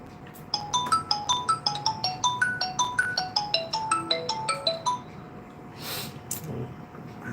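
A phone ringtone plays a bright, repeating melodic pattern of quick two-tone notes for about four seconds, fairly loud and alone, in a workshop where a Sony 43W800D LED TV motherboard is being repaired, followed by a brief rustle.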